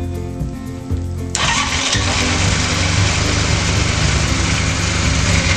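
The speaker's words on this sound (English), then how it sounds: "Now let's start the bike." A motorcycle engine cranks briefly, then catches and settles into a steady, close idle that runs on without talk.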